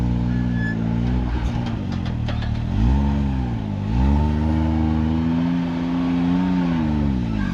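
An off-road rig's engine growls and rises and falls in pitch as the driver works the throttle climbing rocks at Sand Hollow State Park, loud and close, with steady revving surges and no talking.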